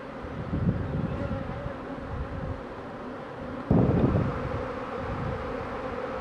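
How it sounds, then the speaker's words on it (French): A honeybee swarm re-forming after breaking apart outdoors, a dense continuous buzz of many bees that swells briefly midway, with light wind noise. "l'essaim est en train de se reformer"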